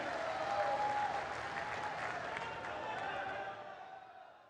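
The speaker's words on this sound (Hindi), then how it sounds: "जोरदार ताली बजाकर आदरणीय प्रधानमंत्री जी का स्वागत करें, अभिनंदन करें।" Loud, sustained applause from a large crowd at a tribal rally in Jhabua, Madhya Pradesh, welcoming Prime Minister Modi, with faint voices underneath and the clapping tapering slightly toward the end.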